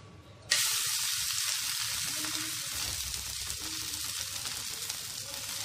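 Sago adai batter with ghee hits a hot tawa and bursts into a sudden loud sizzle, settling into a steady close crackling fry with no voices.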